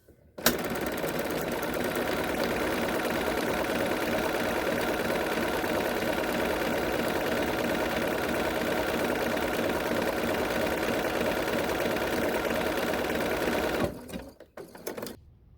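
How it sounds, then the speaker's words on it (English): A sewing machine runs nonstop, top stitching a crossbody bag in one steady, even whir for about thirteen seconds before stopping abruptly, with a few faint handling clicks afterward. "So I'm going to top stitch the other side the same way."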